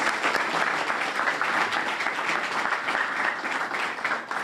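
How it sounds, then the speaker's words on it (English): A graduation ceremony audience claps steadily for the staff, a dense, continuous wash of applause at moderate loudness that tapers slightly at the very end. "I want to give a huge round of applause to our PowerCorps staff."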